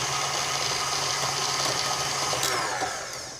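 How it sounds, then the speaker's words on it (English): An electric mixer beats softened butter, giving a loud, steady whirring drone at close range that holds for the whole stretch and eases off slightly at the end, with no talking. "Then I'm just going to start beating to kind of fluff it up a little bit"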